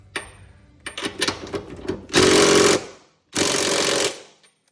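An impact wrench tightening hitch bolts during an Eco Hitch install on a 2024 Subaru Crosstrek Wilderness: a few short ratchety clicks, then two loud sustained hammering bursts about a second long each, close up, with no voices.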